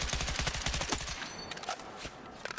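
Rapid automatic gunfire with recoil in the Battlefield 6 video game, a dense burst of close, loud shots at first that thins into scattered reports and fades toward the end.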